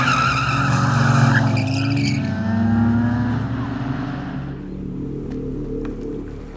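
An Alpina car driven hard, with loud tire skidding and squealing over a revving engine that starts close and strong, then fades to a lower rumble.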